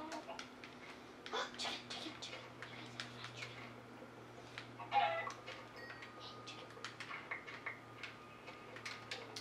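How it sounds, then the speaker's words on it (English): Chicken clucking in Minecraft: a few soft, short clucks scattered through quiet game ambience, with one slightly louder call midway, faint overall. "chicken."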